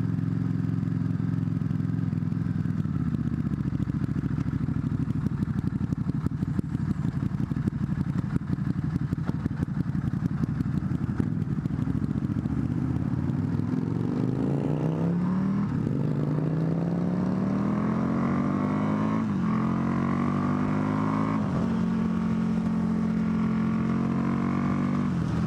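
A Buell 1125CR naked motorcycle engine runs loud and close, first a steady rumbling idle, then rising and falling revs in the second half, with no talking.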